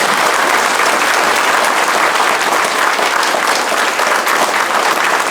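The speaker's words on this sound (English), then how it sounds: "Sir definitely deserves a big round of applause from all of us" Sustained, loud audience applause fills a school Independence Day celebration hall, steady dense clapping from many hands throughout with no talk over it.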